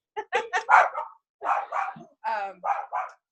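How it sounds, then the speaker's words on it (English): A dog indoors barks at a cat on TV in a rapid series of about eight sharp, close barks in three quick clusters, with no talk. "My dog is going to go crazy right now because there's a cat on TV."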